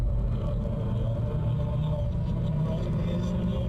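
A car in the game Slender: The Arrival, a low steady engine rumble holding evenly from start to end, fairly quiet and heard alone.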